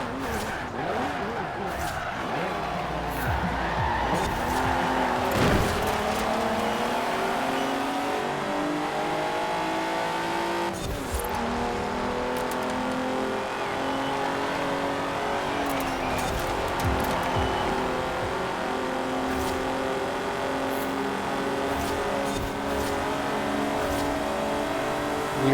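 An Alfa Romeo 155 Q4 racing engine in Forza Horizon 4 revs up and down through repeated gear shifts, with rising and falling whines, brief tire squeals and a continuous loud drone from start to finish.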